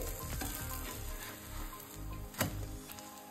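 A protein-rich besan vegetable adai frying on a pan sizzles steadily and fairly loudly, close by, with a brief scraping stir partway through and no talking.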